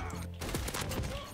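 RAM-7 assault rifle fire in Modern Warfare comes as a rapid, close burst of several sharp gunshots, loud and punchy over the game's background sound.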